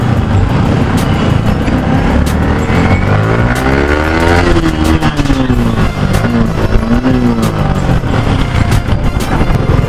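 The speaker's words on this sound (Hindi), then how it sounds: "स्कूल्स की छुट्टी हो चुकी है तभी ट्रैफिक लगा हुआ थोड़ा सा" Congested road traffic around schools letting out, heard from a motorcycle: a steady wash of car and bike engines close by, with one engine rising and falling in pitch through the middle, continuous and loud with no talking.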